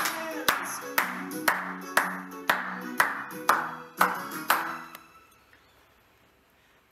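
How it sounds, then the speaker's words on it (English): Eight evenly spaced claps in a steady rhythm over a tinkling musical backing that rings out and fades after the last one. "clap your hands"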